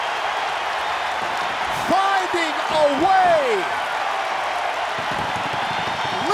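A crowd of 16,000 at a college wrestling arena roars in a steady loud wash of cheering and noise, while a commentator talks over it throughout.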